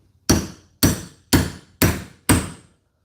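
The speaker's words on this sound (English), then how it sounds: "Now just hammer down on that. I'm not a fan of metal on metal" Five sharp, evenly spaced hammer blows strike metal on metal while working on a door motor assembly part, each hit loud and close with a quick ringing decay and no talking.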